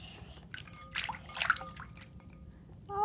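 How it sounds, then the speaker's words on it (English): Small toy figures are dunked and splashed in a basin of water, a few close, light sloshes and drips clustered in the middle and picking up again at the end. "Now it's time to give your Mickey and Minnie's a bath."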